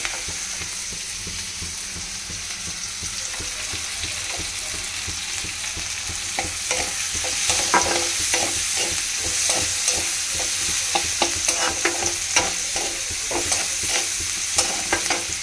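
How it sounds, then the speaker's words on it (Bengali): Sliced onions and chopped garlic fry in a pan with a continuous crackling sizzle. It grows louder partway through as stirring adds sharp scrapes and taps. No one speaks. "এখানে পেঁয়াজ ভাজতে দিয়ে দিয়েছি, রসুন কুচি"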